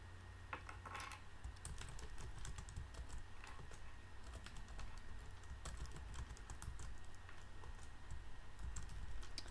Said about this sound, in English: So if you hear me typing, I'm sorry.